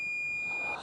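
A smoke alarm giving a single short, high electronic chirp, the kind it makes when its battery is low, fairly faint against a quiet room hum.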